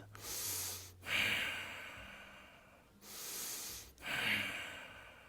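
Slow, steady breathing during a yoga exercise, two long airy breaths each swelling and fading over about two seconds, close and clear with nothing else heard.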